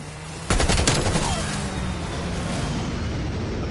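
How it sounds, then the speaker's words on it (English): Strafe-run gunfire in Call of Duty Cold War: after a brief quiet start, a loud burst of rapid automatic fire erupts, followed by a sustained roar of shots and rumbling impacts. "Strafe run incoming on your location."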